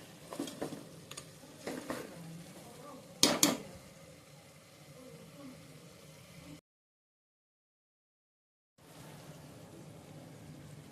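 Ginger garlic paste stirred into goat head curry in a pot, a few soft scrapes and utensil clinks with one sharper knock, quiet throughout, then a short silent gap before faint stirring resumes.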